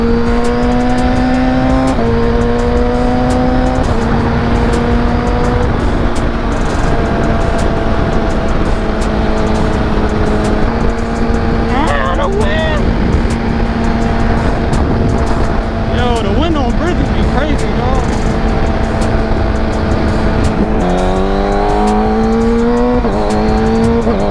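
A car engine revs and drops repeatedly through several gear shifts on a casual drive, loud and close inside the cabin, with the pitch stepping up and falling between changes.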